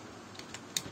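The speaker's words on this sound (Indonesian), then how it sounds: "dengan mengetik perintah" A few light, sparse keystrokes come from a computer keyboard as a command is typed into a Debian 8 Linux system running in VirtualBox. The clicks are faint and close, with the last two slightly louder.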